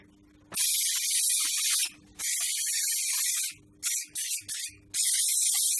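Aerosol lithium grease sprayed in a heavy coating onto a lathe bed in a garage, loud close hissing bursts, two long sprays, then several quick short puffs and a final long spray.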